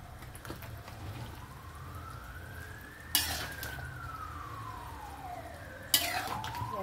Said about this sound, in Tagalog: Tsaka nyo siya haluin.